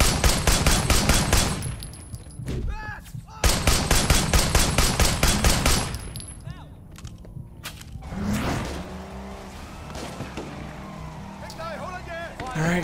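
Sustained automatic gunfire in the action game Sleeping Dogs, two loud rapid bursts, each lasting a couple of seconds, followed by quieter engine and ambient game noise with occasional lighter shots.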